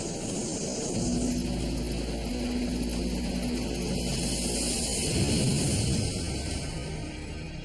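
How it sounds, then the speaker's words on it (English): A firefighting helicopter built to fight high-rise fires in Tokyo drones steadily overhead, its rotor and engine making a continuous, fairly loud hum that holds for several seconds. "With this one-of-a-kind helicopter, the fire department finally has a way to fight high-rise fires."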